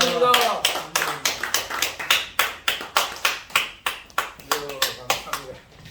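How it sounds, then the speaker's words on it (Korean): Audience at a Korean church gathering clapping in a steady rhythmic beat, many hands together, loud and sustained for several seconds as a new speaker is welcomed. "박수를 영광드립니다"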